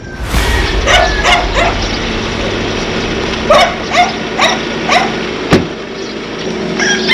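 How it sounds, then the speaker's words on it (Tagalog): Several sharp dog barks ring out at a moderate distance over a steady outdoor background hum, spaced irregularly with a loud bang near the end. "May aso."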